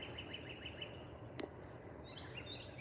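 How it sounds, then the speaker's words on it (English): Birds calling at sunrise at Disney's Fort Wilderness Resort, a series of quick repeated chirps over an outdoor background hum, fairly faint and distant, with a brief sharp click midway. "Got some birds, some loud birds."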